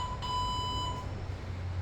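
An electronic workout timer in a home garage gym sounds a long, steady, loud high beep that cuts off partway, over a constant low background hum.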